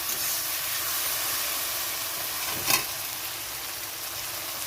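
Spice paste fries in oil for a magur fish curry, a soft, steady sizzle and hiss with one brief louder burst of spitting partway through, no talking.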